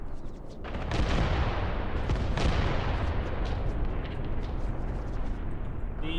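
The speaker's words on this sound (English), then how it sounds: "The barrages are going to be coming to an end here soon." Artillery barrage in the war game Graviteam Tactics: a dense, continuous rumble of explosions with a couple of sharper blasts, loud and sustained, no talk.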